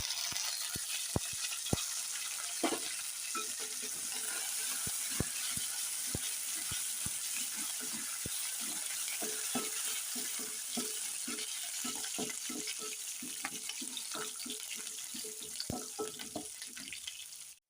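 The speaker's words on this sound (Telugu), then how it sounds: "తాలింపు అయితే వేగిపోయిందండి." Peanuts, seasoning seeds, dried and green chillies and curry leaves fry in hot oil as a tempering, giving a steady close sizzle with scattered crackles and pops throughout, no talking.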